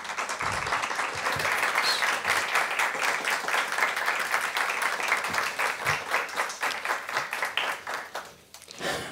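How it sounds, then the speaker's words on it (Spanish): A poetry evening audience breaks into warm applause, many hands clapping in a dense steady rhythm that thins into scattered claps and fades toward the end. "nuestro poeta Amable Sánchez Torres, para quien les pido un fuerte aplauso para empezar."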